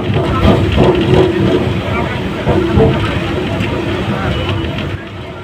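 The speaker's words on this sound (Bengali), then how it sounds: "আমাদের ট্রেন প্রবেশ করছে জয়নগর রেল স্টেশনেতে" A Sealdah–Lakshmikantapur local train runs along the track with a loud, continuous rumble and hiss, rhythmic wheel clatter pulsing through it before easing slightly at the end.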